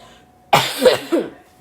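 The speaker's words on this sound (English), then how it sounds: "I need to cough real quick." Three quick harsh coughs in a row, close and fairly loud, after a moment of near silence.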